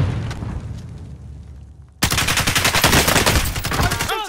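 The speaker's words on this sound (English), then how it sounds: "I'm taking fire!" Video game gunfire: a sparse spatter of distant shots, then from midway a loud, dense stream of rapid automatic bursts that continues to the end.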